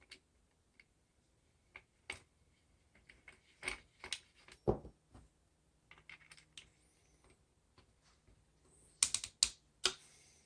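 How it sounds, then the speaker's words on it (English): An Allen wrench tightens the screws on an AR rifle stock in a quiet space, giving a scattered series of sharp ratcheting clicks and small metallic taps, close and faint. "I'll take my Allen wrench and I'll finish it off. I'll go ahead and I'll just torque that down just like so."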